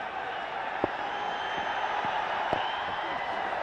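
A cricket stadium crowd at a Nepal versus Netherlands T20 international roars steadily as a bowler stands on a hat-trick, with a broad, continuous wash of cheering and a few sharp peaks, a voice faintly audible underneath.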